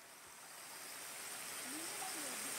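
A small forest waterfall gives a steady, even rush of falling water that swells slightly, with a faint voice briefly audible near the end.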